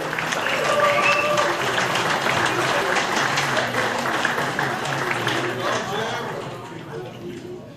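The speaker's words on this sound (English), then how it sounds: "Give Jim a big round of applause." Audience at a live-streamed organisation event applauding a speaker as he comes up, a broad, sustained patter of many hands with some voices mixed in, tapering off near the end.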